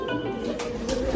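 Giribaz pigeons at a loft during feeding time give soft, continuous cooing close by, layered with low murmuring calls throughout, with no voices.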